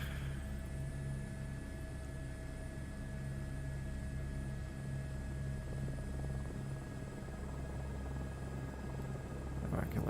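A helicopter engine drones steadily and loudly, with a constant low rumble and a sustained whine that holds through the whole stretch.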